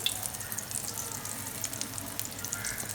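Thick rajma galouti kabab patties sizzle in hot oil, a faint steady crackle with scattered small pops that continues for a few seconds.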